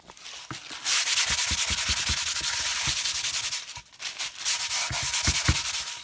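Crumpled wax paper is rubbed back and forth across a surface in quick repeated strokes, a close, steady scraping swish with a rhythmic pulse and a short break midway, no voices.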